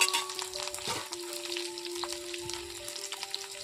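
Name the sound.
green chillies frying in oil for fasting sabudana dish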